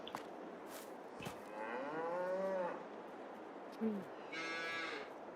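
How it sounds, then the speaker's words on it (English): Cows in Farming Simulator 22, a couple of drawn-out moos from livestock, the first long and wavering, then a short grunt and another sustained bellow, close and clear over quiet background. "The moo cows."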